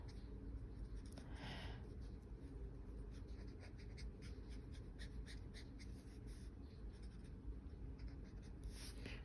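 Pencil sketching a head covering, rendering a turban on paper, a faint steady scratching and soft strokes heard close against a low background hiss.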